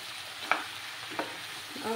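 Mixed vegetables stirred in a pan for a vegetarian sabji, with a couple of sharp spoon scrapes over a soft continuous sizzle, close and fairly quiet.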